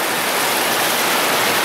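Warm water rushes steadily through an underground tunnel, a loud, even, hissing wash of flowing water with no breaks.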